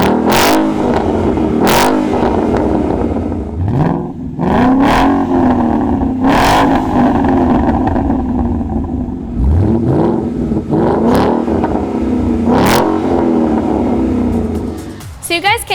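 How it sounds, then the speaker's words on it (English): A 2015 Ford Mustang GT fitted with a Roush axle-back exhaust revs repeatedly, loud and close, with sharp rising blips and throaty decays between pulls, engine idling in between. "let's take a quick listen to see how the Roush Axleback sounds on a 2015 GT"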